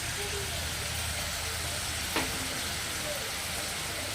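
Mango chutney with sugar bubbles in a pan, a soft steady sizzle and simmer heard close, with a single brief clink midway.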